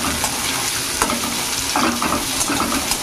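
Chopped onions sizzle and crackle in a hot pan while a prawn curry is being cooked, with a dense, loud, continuous fry and a few scraping stirs close by, and no voices.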